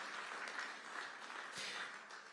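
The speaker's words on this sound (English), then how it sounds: "I ask that you just give them a round of applause" Audience at a budget review panel event giving steady, distant applause for the panelists, a continuous even wash of clapping throughout.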